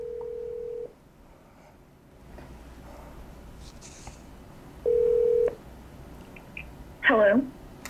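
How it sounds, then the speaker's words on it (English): Telephone tones ring out while a radio caller is being dialed: a steady tone first, another held tone midway, then a quick burst of dialing beeps, set against a quiet room hum. "I just call people on the phone, and I say hello."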